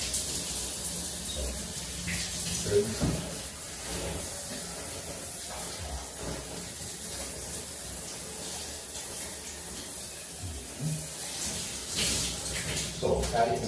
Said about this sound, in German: So, fertig mit dem Duschen.